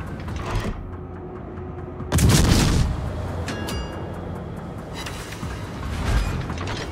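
A heavy booming blast from large naval guns in World of Warships erupts mid-clip, followed by rumbling and mechanical creaks with more distant thuds of battle.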